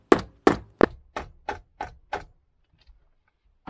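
Seven sharp taps ring out one after another on the engine casing of an NSU Quickly S23 moped as it is knocked all the way round to loosen it, close and evenly spaced, fading slightly before a couple of faint knocks.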